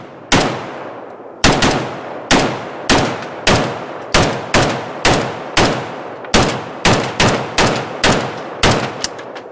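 A Polish AK sporter rifle fires Tella ammunition in a string of about fifteen loud, close semi-automatic shots at a fairly even rapid pace, each crack trailing a short echo, with no talk.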